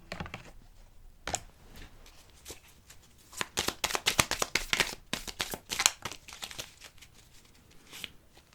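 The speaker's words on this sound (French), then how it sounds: "J'adore mélanger les cartes." A tarot deck gets a long close shuffle, dense papery riffles and flicks building to a busy stretch in the middle and then easing into sparser slaps, with little else around them.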